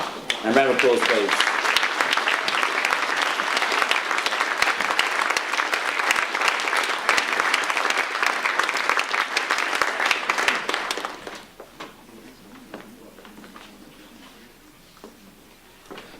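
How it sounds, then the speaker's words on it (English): Loud, sustained applause fills a school certificate of achievement ceremony for about eleven seconds, then cuts off sharply, leaving quiet room sound with a voice briefly speaking. "And round of applause, please."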